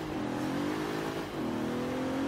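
A Bentley Continental GT rally build in the video game Forza Horizon 3 revs and accelerates with a steady engine drone. The pitch climbs, dips at a gear change, then climbs again, at moderate level with no talk.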